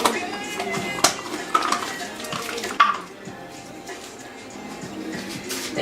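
Water is poured into a pot holding chicken, giving a continuous splashing rush with a few sharp clinks and knocks of the pot, heard close.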